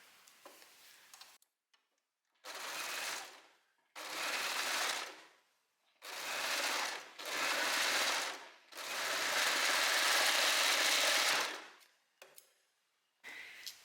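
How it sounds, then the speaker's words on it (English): An overlocker serges the raw edge of a maxi dress in five separate runs of varying length, each a steady loud whirring hum that starts and stops abruptly, with short quiet pauses in between. "you also want to overlock this part here"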